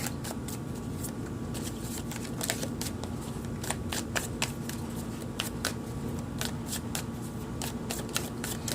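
Tarot cards shuffled by hand in a steady stream of quick crisp riffles and flicks, close and moderately quiet, with no talking.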